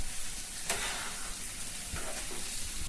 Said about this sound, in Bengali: এখন লতিগুলা দিয়ে কষানো ইচা মাছ দিয়ে নেড়ে ছেড়ে ভেজে নিব